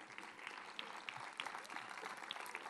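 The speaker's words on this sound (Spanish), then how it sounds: "Un aplauso para ellas." Steady audience applause at a 2021 patronal festival proclamation ceremony, a dense, even patter of many hands at moderate distance without talk.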